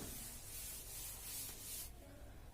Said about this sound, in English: I will rub and write the conclusion here.